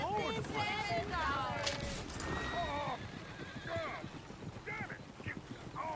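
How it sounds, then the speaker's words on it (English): Horses whinny and neigh repeatedly in a Red Dead Redemption 2 game scene, with hooves clip-clopping underneath. The sound is moderately close and continuous. "Oh, shit, the horses!"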